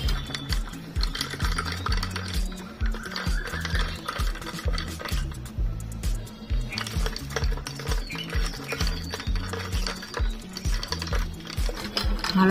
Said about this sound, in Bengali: চাট মশলা, গোলমরিচের গুঁড়ো, ভালো করে মিশিয়ে নেব।